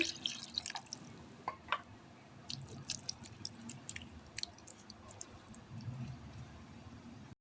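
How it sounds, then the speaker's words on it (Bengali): A little water goes into a small-fish chorchori mixture, heard as faint, scattered drips and soft wet splashes close by in a quiet kitchen. "তারপর এখানে সামান্য পরিমাণে পানি দিয়ে দিচ্ছি"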